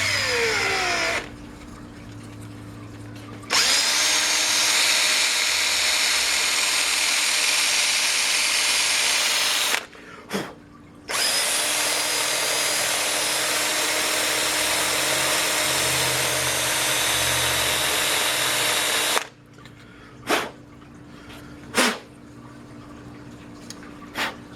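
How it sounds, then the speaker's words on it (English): A power drill runs in long sustained bursts with short pauses between them, loud and close, with no talking. "We've got the drill out."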